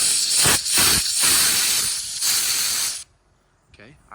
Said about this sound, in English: So go ahead, spray some compressed air in there